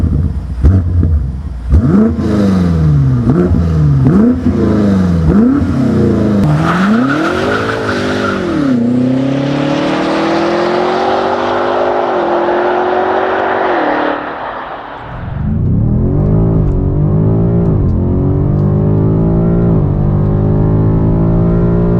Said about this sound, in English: it's now time to get the M5 Competition on the Autobahn